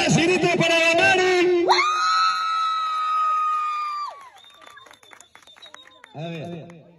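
At a family reunion, a crowd yells and screams in a loud burst that settles into a sustained shout, fades to sparse clapping and chatter, then flares briefly with more voices.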